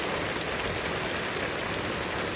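Steady rain pouring at a Russian dacha during a downpour, a dense, even hiss of drops on surfaces filling the whole moment, close and loud with no voices.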